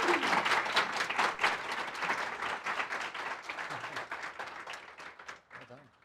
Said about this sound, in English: Another round of applause for Erin.